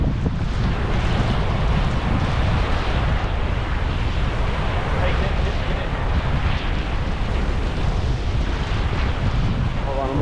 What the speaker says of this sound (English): it's pretty freaking windy